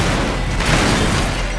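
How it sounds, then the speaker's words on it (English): Explosions from a Watch Dogs game trailer roar as a dense, loud blast of rumbling, crackling noise, with a sharper burst near the middle in one continuous barrage. "Big explosions, honey."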